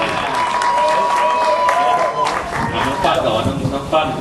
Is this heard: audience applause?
yes